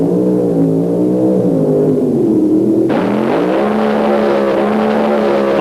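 A 1970s drag race car with a 1,750 horsepower Hemi engine, a Plymouth Satellite, roars at full throttle down the strip, loud and continuous, its engine note climbing with gear changes and a second car joining partway through.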